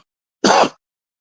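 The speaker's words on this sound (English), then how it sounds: "I'm coughing to death." A single short, rough cough or throat-clearing bursts out once, close and fairly loud, in otherwise silent surroundings.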